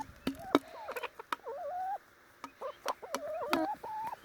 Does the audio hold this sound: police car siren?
no